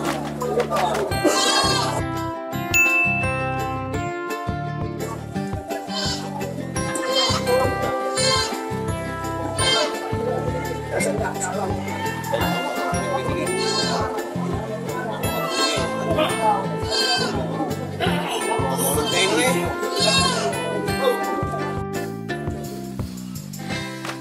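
Goats bleat repeatedly amid a dense, noisy scene, with people talking throughout.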